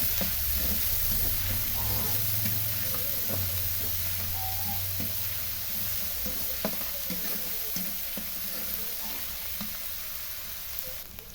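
Onion, garlic and ginger paste frying in a pan for shrimp curry, a steady close sizzle with scraping stirs and light clinks throughout, no talking.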